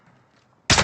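A single sharp sniper rifle shot in Call of Duty: Warzone, cracking loud and close after a near-silent lead-in, with a brief ringing tail.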